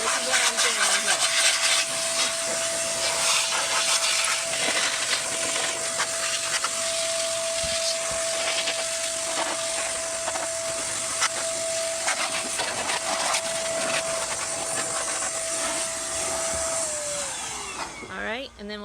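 An electric blower blows dust out, a loud, steady whirring whine that runs for over fifteen seconds, then winds down and stops at the end.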